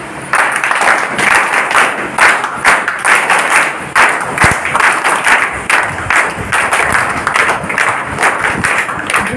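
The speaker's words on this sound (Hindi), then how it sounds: "विशेष ताली से मैडम का स्वागत हम लोग करेंगे।" An audience applauds to welcome someone speaker at a five-day non-residential Chahak training programme in Gauspur and Ballia, with dense, sustained clapping close by that keeps up steadily throughout.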